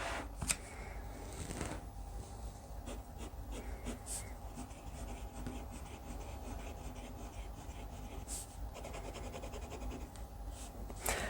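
A Parker fountain pen writes on paper in a steady run of soft scratching strokes with occasional taps, close and quiet with no talk.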